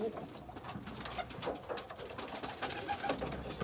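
Racing pigeons coo in a loft, with soft repeated coos layered over a busy background of bird murmurs and faint rustling.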